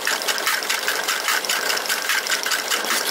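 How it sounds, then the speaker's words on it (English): Super burner roaring as it heats a Stirling engine, a steady loud broadband rush with a fluttering, slightly pulsing texture, close and continuous with no talking. "You can hear that roaring now. The super burner is working out to its full head of power."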